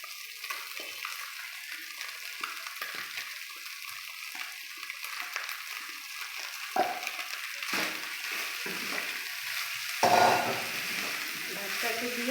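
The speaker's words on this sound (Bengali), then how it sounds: "ভাতটাকে দিয়ে নাড়াচাড়া করে নেব" Leftover cooked rice stirred and fried in a pan, a soft continuous sizzle with scraping stirs and a louder burst near the end.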